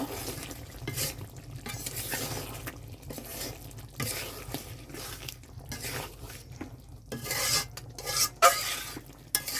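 Magur fish curry being stirred in a pan, mixing in a ground paste as it finishes cooking: continuous scraping strokes over a steady frying sizzle, close and fairly loud, rising near the end.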